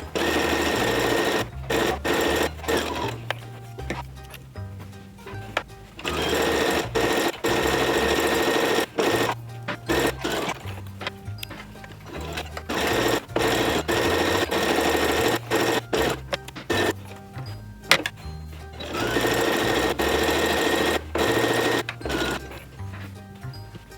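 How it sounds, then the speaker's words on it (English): A sewing machine stitching fabric for a reversible bucket hat, running in close, loud bursts of rapid mechanical whirring broken by short pauses, with no voices. "All right, fresh off of the sewing machine."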